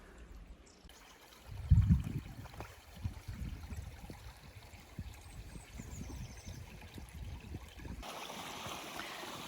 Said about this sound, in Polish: O, tu jak się szeroko strumień rozlewa.